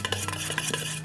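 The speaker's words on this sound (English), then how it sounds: "Give it a stir." A spoon stirs and tosses a squash fritter mixture with lemon zest, parsley, salt and black pepper in a bowl, giving a steady, close run of soft scraping and light clinks with no talk.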